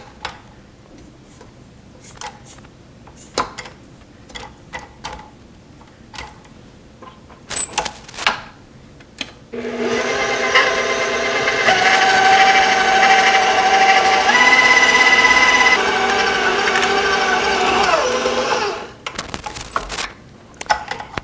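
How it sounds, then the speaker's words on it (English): An electric stand mixer churns peppermint patty candy dough for about nine seconds, a loud steady whirring motor hum that starts abruptly, then cuts off, between scattered clicks and light kitchen handling noises. "I'm going to take it off my mixer here."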